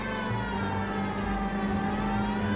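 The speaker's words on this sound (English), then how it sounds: "we should probably have our siren on so cars will get out of the way" Steady police car siren from the video game LA Noire, a continuous loud wail running throughout with a low engine and traffic rumble beneath, no voices.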